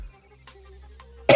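A single sharp cough bursts out near the end after a quiet stretch of soft tones, close and loud.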